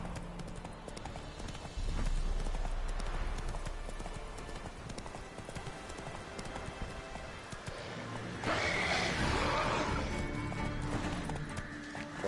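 Galloping horse in The Witcher video game, a steady thudding hoofbeat rhythm running throughout, loud and close, with a brief burst of brighter clatter near the end and no talk over it.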